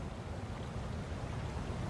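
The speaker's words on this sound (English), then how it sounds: "We hear the river." A river in the wild, heading toward a waterfall, rushes and churns in a steady, dense broadband flow that stays loud and unbroken throughout, with no voices over it.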